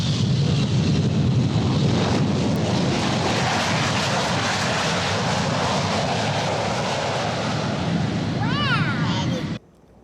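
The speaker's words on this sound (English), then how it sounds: "we found a video of the day the Concorde landed at RDU back in 1986" A Concorde supersonic jet lands at RDU airport in 1986, its engines a loud, sustained roar with wind buffeting the microphone, and voices mixed in beneath; near the end a brief rising and falling whine precedes an abrupt cutoff.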